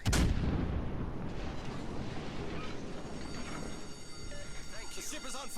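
Naval guns of a cruiser firing in the World of Warships game, a heavy boom at the start rolling into sustained low rumble and battle din, with someone talking over it.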